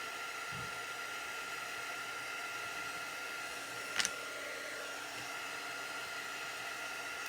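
A blower runs steadily throughout, drying freshly painted or glued craft door tags with a continuous even hiss, broken by one brief sharp click near the end.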